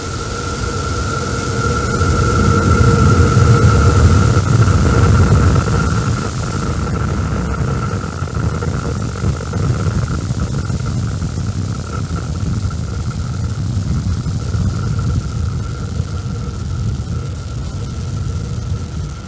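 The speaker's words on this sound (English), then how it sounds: "Starship test vehicle number 11 ascending over Starbase in South Texas" SpaceX Starship SN11 test vehicle ascending over Starbase in South Texas in fog, a loud continuous low rocket-engine roar and rumble with a steady hum, slowly easing in intensity.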